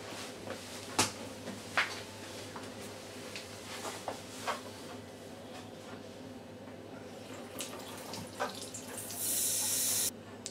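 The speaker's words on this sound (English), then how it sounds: "And now we're just going to turn the water back on again" Water runs steadily from a lever tap into a sink, a soft continuous hiss with a few light knocks and clicks of handling, growing louder and brighter near the end as the flow increases.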